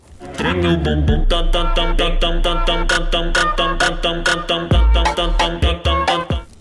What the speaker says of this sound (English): this is a funky carioca